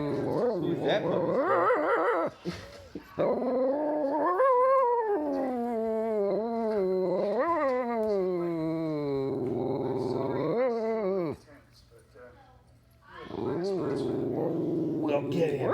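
A dog growls and vocalizes up close, with rough rising and falling tones that run almost continuously and break off in a short quiet gap before resuming.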